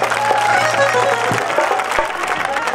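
An audience at a village jagran in Ghaseda, Rewari, claps in a steady, fairly loud round of applause that lasts throughout, with faint crowd noise mixed in.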